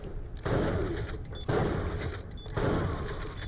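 Gunfire and blasts in the video game Borderlands Pre-Sequel: three heavy, booming bursts of shooting arrive about a second apart, each with a rumbling tail, loud and close.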